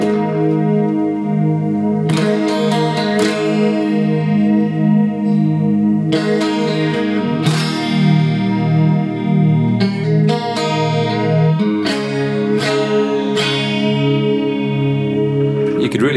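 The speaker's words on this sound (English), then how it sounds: "Let's have a listen to the chorus." An instrument runs through the chorus setting of a Roland Space Echo tape delay, giving sustained notes a wobbling, shimmering warble. Bright, sharp attacks recur every second or two over a continuous swirling bed, loud and close.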